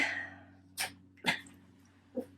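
A dog gives three short, sharp snorts or sniffs, spaced apart against a quiet indoor room hum. Each burst is brief and close, with no talking.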